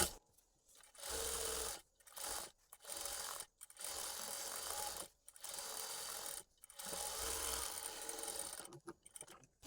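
Sewing machine stitching a half-inch folded hem on a uniform dress, running in repeated short bursts of fast whirring separated by sharp pauses, close and fairly quiet.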